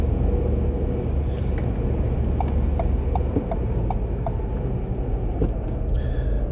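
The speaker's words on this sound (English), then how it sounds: "These gear changes in the Fiesta are quite long." A Ford Fiesta ST-line with a 1.0-litre turbo three-cylinder engine and six-speed gearbox drives steadily, its loud continuous road and engine drone punctuated by faint rhythmic ticks, with no talking.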